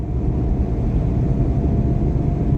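A Peugeot 408 GT's engine drones low and steady from inside the cabin while driving, a continuous rumble with road noise and no voices.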